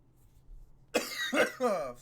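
After a quiet start, a few sharp, close coughs burst out in quick succession, loud and raspy.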